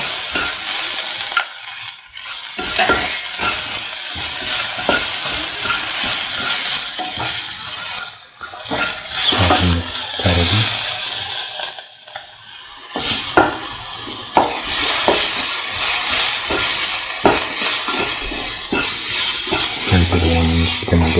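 Onions fry in a pan, sizzling loudly and continuously while being stirred, with frequent scraping and clinking of a utensil against the pan and brief lulls between stirs.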